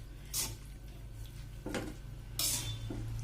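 Rice being stirred in a pan with spices, three short scraping strokes of a utensil against the pan spread over a few seconds, fairly quiet above a low steady hum.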